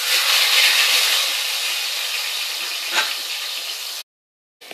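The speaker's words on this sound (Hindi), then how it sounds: "अब ये मसाला जो हमने भिगो के पहले से रखा था उसको मैं फ्राई करूंगी।" Soaked spice paste fries in hot oil with black pepper and cloves for moong dal, a loud, dense, close hiss that fades slightly over four seconds, with one brief stir, then cuts to near silence and a faint tap at the end.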